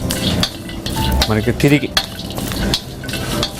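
Capsicum and methi curry stirred in a pan on the stove: close, loud sizzling and frying with a spoon scraping and clinking against the pan, while someone speaks briefly over it.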